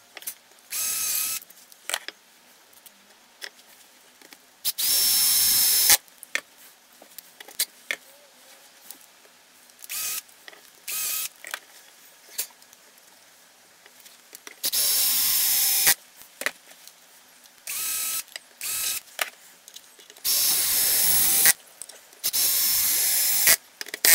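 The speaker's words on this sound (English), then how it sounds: "So probably it's better to briefly pre-drill these holes." Hand drill pre-drilling screw holes in a large pine block before woodturning an ashtray: repeated loud bursts of drilling and whirring, each lasting from under a second to about a second and a half, separated by quieter gaps of handling noise.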